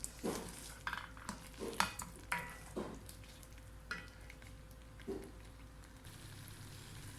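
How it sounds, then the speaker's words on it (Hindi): Masala roasting in oil for egg korma with potatoes, a spoon stirring and scraping the pan in irregular strokes over a soft continuous sizzle, close up. "अब इसकी अच्छी तरह से और भुनाई होगी और उस वक्त होगी जब तक ये पानी इसका सारा वाइप ऑफ होके ड्राई होके और ऑयल सेपरेट ना हो जाए।"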